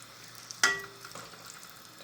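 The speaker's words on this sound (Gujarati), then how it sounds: "ચાલો હવે તરવાનું ચાલુ કરી દઈએ ચાલો મેં એક નાખી છે ટ્રાય કરવા માટે કે તેલ થયું છે કે નહીં" Dried fish dropped into hot oil, a sudden sizzle that flares up and then settles into a faint bubbling crackle, close by, with a voice softly in the background.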